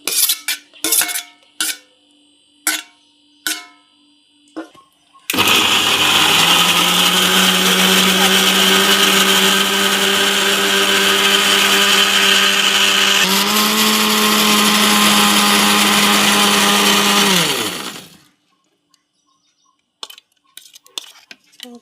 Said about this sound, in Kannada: ಇದು ಟೊಮೆಟೊ ಮತ್ತು ಈರುಳ್ಳಿನ ಮಿಕ್ಸರ್ಗೆ ಹಾಕ್ಕೊಂಡು ಬರೋಣ.